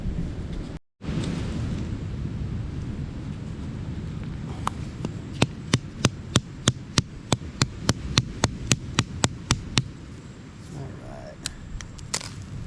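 An almond from a tree is cracked open outdoors on St Croix with roughly twenty sharp, regular knocks that speed along, close and clear over a constant windy hum.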